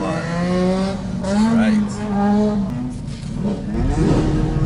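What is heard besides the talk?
car driving a lap on a race track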